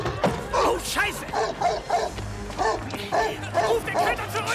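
A dog barks and yips repeatedly in a tense film scene, close and loud, mixed with thumps and whimpering under a low rumbling background.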